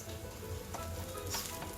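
Rava uttapam batter topped with onion and tomato sizzles on a hot tava griddle, a steady close crackling fry with faint scraping, no voices.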